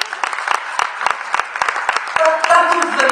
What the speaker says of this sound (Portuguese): Isto também merece uma salva de palmas